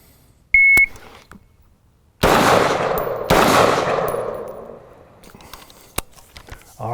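Two loud close shots ring out at an outdoor shooting drill at 25 yards, each decaying with a long echo, after a brief timer beep, with quiet intervals between.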